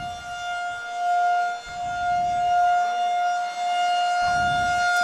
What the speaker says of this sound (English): I think this siren is right on the press box